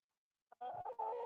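Ex-battery egg-laying hens at a farm sanctuary give a soft, close cluck and then a short run of throaty clucking calls, quiet and alone, after brief silence.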